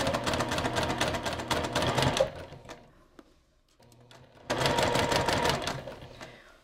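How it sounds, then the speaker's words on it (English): Sewing machine stitching steadily around the fabric edge of an Easter bunny treat bag, a rapid close mechanical rattle that stops for a few seconds with faint handling, then resumes just as loudly. "I'm just going to sew around the whole edge."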